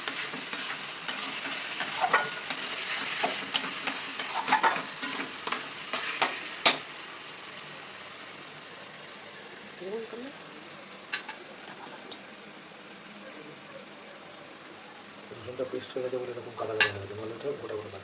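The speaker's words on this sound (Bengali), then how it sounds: "এই দেখুন বন্ধুরা, ভাজা ভাজা হয়ে গেছে, তেল ছেড়ে গেছে।" Oil crackles and sizzles in a pan as food fries, with irregular clicks and scrapes from stirring. It starts busy and loud, then settles into a quieter, steady sizzle with a few scattered pops.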